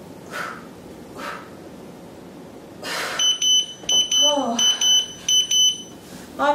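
Workout timer alarm during a HIIT ab session, sounding in a rapid series of shrill electronic beeps in repeated bursts, following a few breathy exhalations and sounds from a dog.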